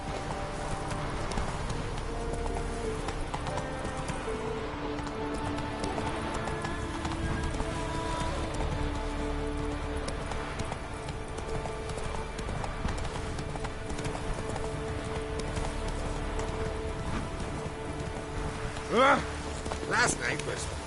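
Geralt's horse Roach clip-clops along steadily in The Witcher 3, a continuous rhythmic hoof beat under game music with a brief whinny-like burst near the end.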